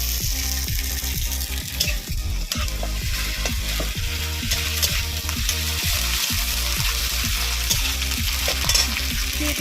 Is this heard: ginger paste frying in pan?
yes